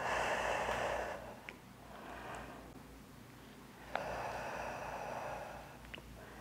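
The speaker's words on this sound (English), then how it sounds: "and exhale." Slow breaths during a resistance band upper body workout, with a long inhale and then strong, airy exhales, close to the microphone, alone and fairly quiet in a calm room.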